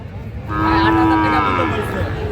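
A single loud, drawn-out moo from a Sahiwal bull calf at a cattle market, close by, rising then holding steady over a low background murmur.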